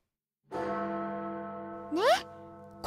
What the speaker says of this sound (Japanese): チャイムが鳴っちゃったよ。